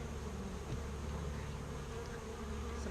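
Honey bees swarm around an opened hive during an inspection at an apiary, a steady, dense buzzing hum that carries on without a break, close by and with no talking over it.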